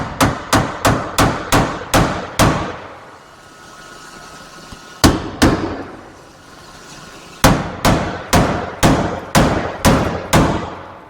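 Metalwork on a 1957 Chevy: a hammer strikes a metal panel in quick bursts of sharp ringing blows, then two single whacks, then another rapid run of hits, loud and close with no talking.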